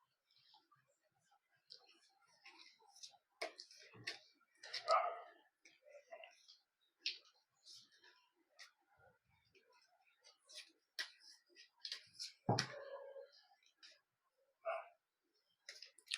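Tarot cards being shuffled and handled, with soft papery flicks, slides and taps coming in irregular bursts, close and fairly quiet, while a person speaks softly in between.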